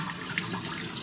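A kitchen sink tap runs steadily while raw chickens, about ten pounds in all, are washed. The hiss of water is close and constant, with no speech over it.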